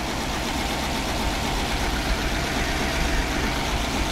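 Steady, loud idle of a car engine running with its oil pan lowered and the crankshaft turning, a dense continuous rumble with no break.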